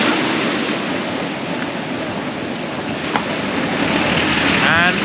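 Ocean surf at Pipa Beach, Brazil, with high tide, a loud continuous wash of breaking waves mixed with wind buffeting the microphone.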